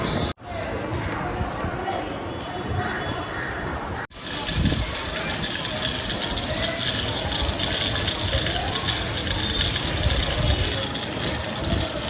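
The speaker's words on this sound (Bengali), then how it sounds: "জলটা দিয়ে নিই।" Water pours steadily onto potted garden plants, giving a continuous close splashing gush that briefly cuts out twice before resuming.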